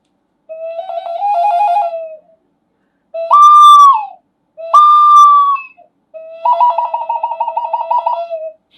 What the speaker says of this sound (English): this is a little flute that someone brought from India. I don't know whether it has a name, but it sounds very much like a bird